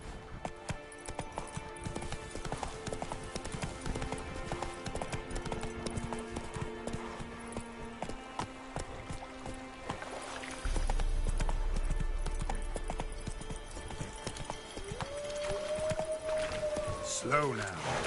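Hoofbeats from the horse Roach galloping in The Witcher 3, a steady clip-clop rhythm running under game music and ambient effects, with a rider's voice and a whinny-like tone near the end.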